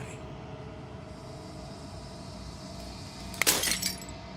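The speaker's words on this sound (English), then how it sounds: "As the final fragment of glass shatters" Glass shattering in the video game Slay the Princess: a single sharp, bright burst of breaking glass near the end, after quiet ambient drone, with a brief tinkling tail.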